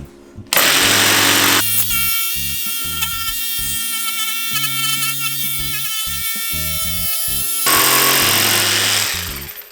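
Ryobi R18JS cordless battery jigsaw cutting through MDF board, a loud continuous buzzing reciprocating whine that starts abruptly, runs steadily for several seconds with slight load variations, then revs up briefly before stopping, close up with no talk.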